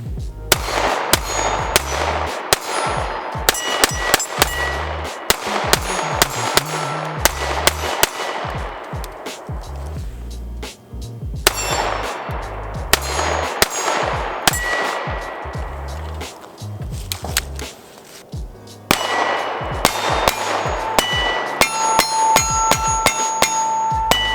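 Rapid strings of pistol shots from a Bul Armory SAS2 Viper, sharp cracks in fast bursts with short pauses between strings, loud and close.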